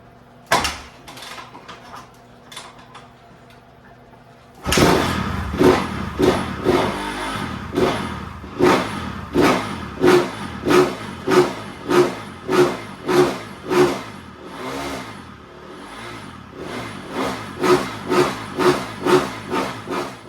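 Snowbike engine starting after a quiet stretch, then running with a loud, rhythmic chugging and revving pulse that rises and falls repeatedly, close up.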